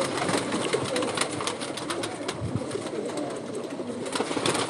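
Flying pigeons of the 79 breed coo steadily and close up, a continuous layered murmur of calls over a dense background hiss.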